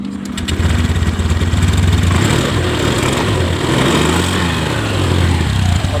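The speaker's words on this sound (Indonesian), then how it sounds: "Motor langsung hidup, ada normal kembali." A small Honda Scoopy scooter engine, fixed after failing to start, starts and settles into a steady, loud idle with a rhythmic putter throughout.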